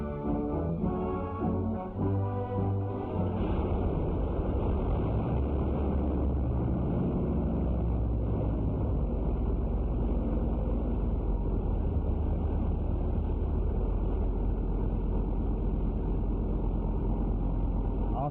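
A 1941 aircraft engine runs continuously on a test stand in a heavily insulated room, a loud, steady, dense roar that settles into an even drone after a brief change early on.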